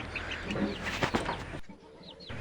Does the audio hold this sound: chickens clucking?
yes